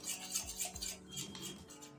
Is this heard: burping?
no